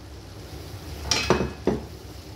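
Spoon stirring rice mixed with sardine curry in a pan over a low flame, a few short scraping clatters against the metal near the middle, otherwise quiet kitchen background.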